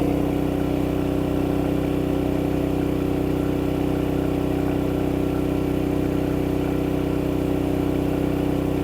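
A Forte FG4500IE 3.6 kW inverter generator runs under load with a loud, constant engine drone and steady tonal hum, unchanging throughout, close to the microphone.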